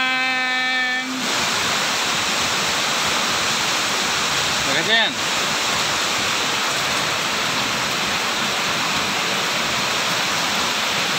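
A waterfall swollen after rain roars as a loud, constant broadband rush close by, with a brief tonal sound at the start and a short spoken question partway through.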